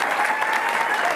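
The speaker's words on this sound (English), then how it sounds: "May I have a big applause for Anna" An audience gives brief, dense applause for cycling team riders at a team presentation, steady and fairly loud.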